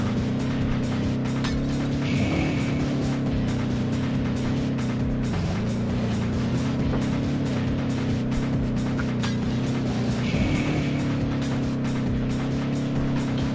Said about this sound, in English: This car is so unbelievably loud.